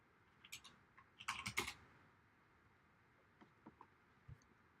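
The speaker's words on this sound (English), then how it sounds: "One sec, typing in chat." Quick bursts of keystrokes on a computer keyboard, a dense cluster of clicks followed by a few scattered taps, close and fairly quiet with no talking.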